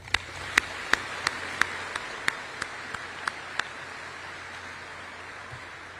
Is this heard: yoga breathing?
no